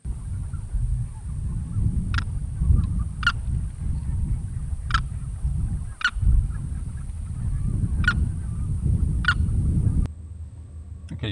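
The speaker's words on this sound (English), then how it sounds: "I couldn't disturb these birds if I wanted to." Several loud honking goose calls ring out at irregular intervals over a steady low rumble of wind and background noise at a Louisiana wildlife drive in winter.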